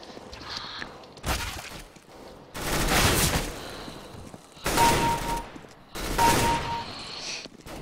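Bursts of AK-47 rifle fire in Counter-Strike: Global Offensive, four loud volleys of rapid shots separated by brief pauses, with no talk over them.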